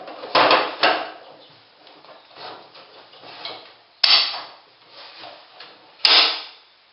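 A drawer on freshly installed glides in a Festool LR32-built base cabinet slides shut twice, each ending in a sharp close knock, with quieter handling sounds between.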